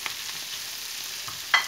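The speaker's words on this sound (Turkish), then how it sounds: "Şöyle bir karıştırıyorum." Mushrooms and ground meat with chili flakes and black pepper sizzle steadily in a pan as a spoon stirs them, a close, even frying hiss broken by a brief scrape of the utensil near the end.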